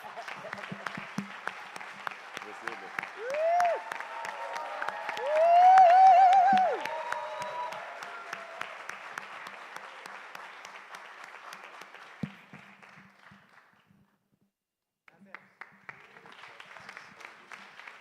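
Audience applause at the Catalyst Now Awards Ceremony 2025: a steady, dense patter of clapping for about fourteen seconds, with a few voices and whoops rising over it. It fades to a brief silence, then a lighter round of clapping resumes.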